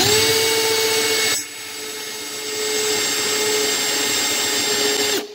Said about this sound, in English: You're going to drill in about 1 inch.